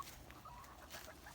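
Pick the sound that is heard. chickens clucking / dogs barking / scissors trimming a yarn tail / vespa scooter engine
chickens clucking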